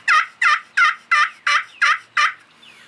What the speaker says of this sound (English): like an older bird sounding yelp.